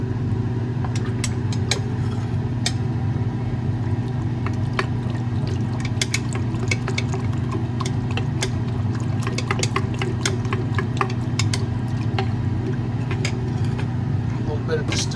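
A gold precipitation solution with added hydrochloric acid is stirred, producing rapid, irregular clinks and scraping ticks that run through the whole stretch over a constant low mechanical hum.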